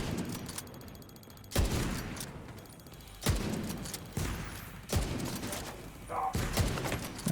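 Gunfire in a video game: several heavy bursts of shots, roughly every one to two seconds, with a bright ringing high tone lingering between them, fairly close and loud against a low background.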